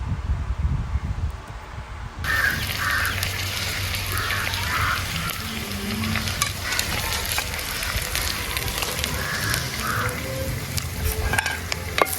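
Tomatoes and green chillies sizzle and fry in a pan, a loud continuous crackle that jumps up sharply after a couple of seconds as more goes in, close by, with occasional faint stirring.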